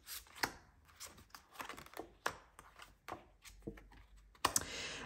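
Tarot cards being shuffled and drawn, a sequence of soft slaps, flicks and riffles at an irregular pace, close and quiet, with no talking.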